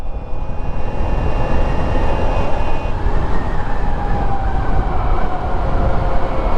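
Ride on an electric scooter, nearly silent at low speed, giving a steady loud rush of wind and road rumble with a faint rising whine throughout and no talk.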